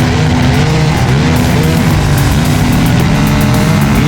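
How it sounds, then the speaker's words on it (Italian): Loud, continuous engine roar with revving pitch changes, several motocross motorcycles running together close by at a mud race, dense and unbroken throughout. "I motori ruggiscono."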